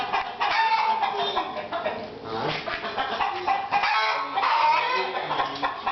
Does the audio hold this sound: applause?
no